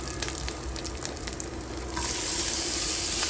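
Sliced onions sizzle in a hot pan for Goan mutton xacuti, a steady hiss with faint crackles that swells louder partway through as more frying noise builds.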